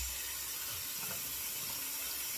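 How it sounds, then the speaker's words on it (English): Tap water runs steadily into a sink while a shaving brush is wetted before lathering, a soft continuous hiss with no talk. "get some water on the brush"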